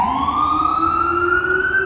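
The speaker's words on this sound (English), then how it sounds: "Forgive the sirens," Loud, steady wailing siren from a fire department ambulance passing on an Upper West Side street, a rising electronic tone held close and clear without talk.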